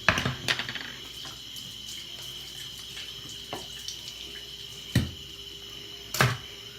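Parts of an Eheim aquarium canister filter are rinsed under a running tap, with a steady splashing flow and a few louder clinks and knocks as pieces are handled.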